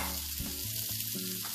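Vegetable paratha filling cooks in extra butter in a pan, giving off a soft, steady sizzle that sounds close but quiet over a short moment.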